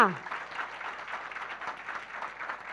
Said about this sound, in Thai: ขอพลังเสียงปรบมือให้กับ แพทย์หญิงนลินีไพบูลค่ะ